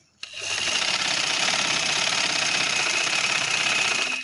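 A sewing machine stitching along the edge of a fabric pillow cover: loud, close, steady mechanical whirring that starts abruptly and runs without a break for about four seconds.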